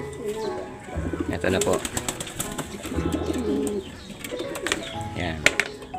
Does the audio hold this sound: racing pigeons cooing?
yes